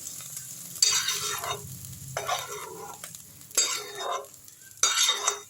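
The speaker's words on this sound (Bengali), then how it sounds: "আমি আরেকটু সময় ভেন্ডিটা নাড়াচাড়া করে নিলাম" Okra sizzles in hot oil in a kadai while a spatula stirs it, making four distinct scraping sweeps over a constant frying hiss.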